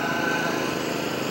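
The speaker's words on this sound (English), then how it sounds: "Todd Clayton driving with some brand new lawnmowers and tillers and other things from M&B Welding" A small engine on a brand new lawnmower droning steadily as it is driven in a 1988 small-town parade, a continuous buzzing hum with no break.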